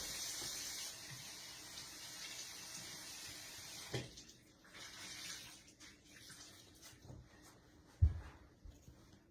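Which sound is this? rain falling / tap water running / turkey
tap water running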